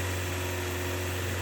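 A Mazda Miata engine idles roughly with a steady, piercing high-pitched whine over a constant low hum, continuous and close throughout.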